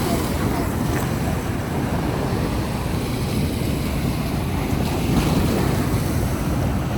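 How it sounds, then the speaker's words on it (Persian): Surf breaks and rolls along the seashore in an unbroken, loud wash, mixed with strong wind buffeting the microphone, near and steady throughout. "شما دستای دریا گوش کنید"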